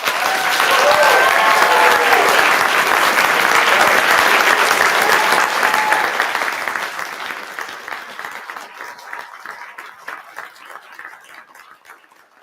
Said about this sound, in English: Can we just give them one more big round of applause?